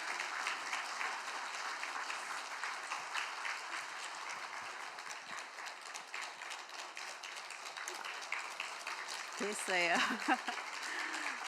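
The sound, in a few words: congregation applauding to welcome a missionary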